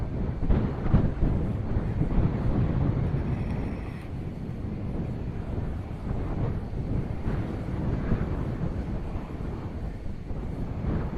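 Steady low wind rumble buffets the microphone throughout, with a faint engine drone in the background and no speech, near Air Force One.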